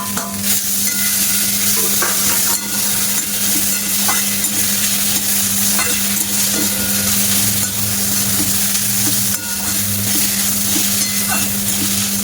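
Grated potato going into spice mix fried red in oil for potato patty filling, a dense loud sizzle with occasional stirring scrapes over a constant low hum, no voices.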